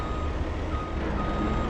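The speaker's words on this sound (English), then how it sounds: "this truck is not the most inconspicuous of vehicles. It's rather large and loud" A large, loud truck idles nearby in a steady low rumble, while a reversing beep repeats throughout.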